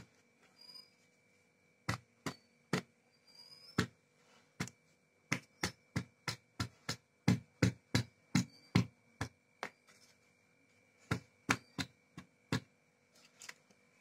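A series of sharp, hollow taps, about two dozen, as a dhokla batter container is tapped on a kitchen towel, struck in quick bursts with short pauses between, close and fairly loud against a quiet background.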